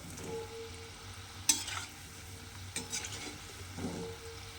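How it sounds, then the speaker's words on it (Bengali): Lentil fritters for rasa bora frying in a pan of hot oil, a steady soft sizzle broken by a few sharp scraping clinks as they are turned over. "এইভাবে কিন্তু উল্টিয়ে পাল্টিয়ে সুন্দর করে একদম ভেজে নিতে হবে বড়াগুলোকে"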